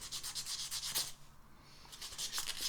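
Chrome-finished metal heads are sanded by hand with 180-grit sandpaper, giving close, rhythmic rubbing strokes that pause briefly midway and then resume.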